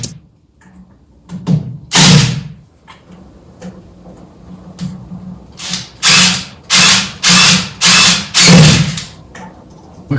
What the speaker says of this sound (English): screwing them to the upright beams